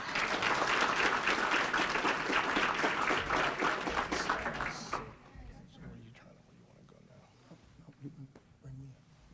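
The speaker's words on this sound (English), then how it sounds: "Come on, give these young men another round of applause." An audience at a scholar-athlete awards banquet applauds the recipients with loud, steady clapping for about five seconds, which then fades to scattered claps and quiet room noise.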